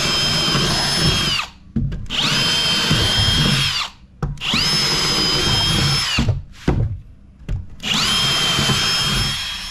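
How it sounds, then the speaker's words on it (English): A power drill whines in four long bursts separated by short pauses, drilling drainage holes in a wooden planter box, with brief clunks between runs, close and loud. "Go ahead and drill some holes in the range now."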